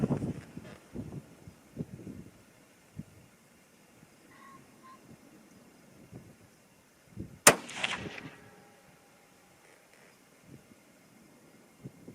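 A Christensen Arms MPR rifle in 6.5 Creedmoor fires a single loud, sharp shot outdoors, followed by a brief rolling echo, with quiet handling noises before and after.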